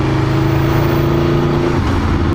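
A 2014 Aprilia Tuono V4R motorcycle on its stock exhaust pipe gives a loud, close, steady engine drone while riding, with a slight change in tone near the end.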